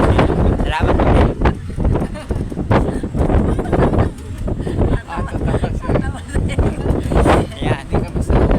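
Loud, steady wind buffeting and rushing past riders in the open back of a moving pickup truck, with muffled voices mixed into the roar throughout.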